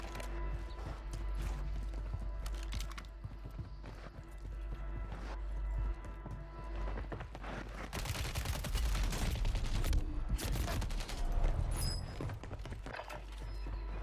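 Gunfire in the video game Warzone: rapid bursts and scattered distant shots, faint and irregular at first, then growing denser and louder in the second half amid mechanical game sounds.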